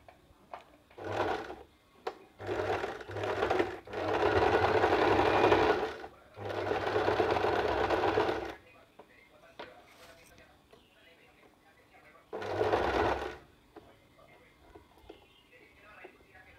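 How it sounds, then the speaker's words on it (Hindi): A sewing machine stitches the shoulder seam of a top in several close, steady bursts of whirring, with quiet pauses between runs and one more short burst near the end. "तो चलिए सिलाई डालते हैं।"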